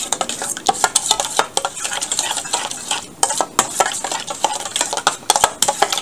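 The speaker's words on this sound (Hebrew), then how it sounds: "לערבב היטב." A fresh broccoli salad with a sesame and cranberry dressing and black pepper is stirred thoroughly in a bowl. Close, continuous scraping and tossing rustles go on steadily with no talking.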